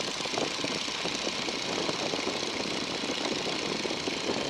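The engine of a 1942 Boeing Stearman biplane drones steadily in flight at reduced power, a loud, continuous rumbling roar with no speech.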